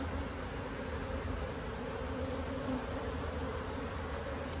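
Honeybees buzzing around an open hive, a dense continuous hum of many insects, close and steady throughout, with no talking.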